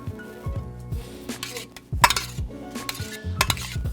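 A utensil stirs ingredients and soy sauce in a pan during a chef's cooking demonstration at an appliance expo, giving repeated metallic scrapes and clinks in an irregular rhythm, close and fairly clear, with a few sharper knocks.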